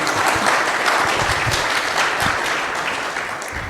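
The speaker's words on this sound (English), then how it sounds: "Round of applause for Sydney." An audience applauds at the close of a debate on the existence of God, a loud, dense wash of clapping that stays steady and full, then eases slightly toward the end.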